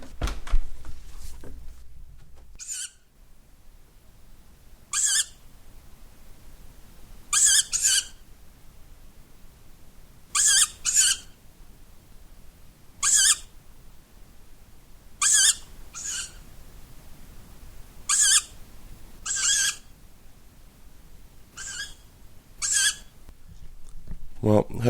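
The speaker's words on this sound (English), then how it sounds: "these squawking sound outside our window" Harsh, raspy owl screeches repeat every few seconds against a quiet night background, some in quick pairs, at moderate distance.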